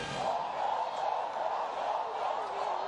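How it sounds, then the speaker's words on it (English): Stadium crowd at an Alabama State vs Alcorn State college football game in 2016, cheering and chanting the chop after a touchdown; a steady, dense roar with a rhythmic chant swelling underneath, continuous for a few seconds. "Crowd gets into it, they start doing the chop."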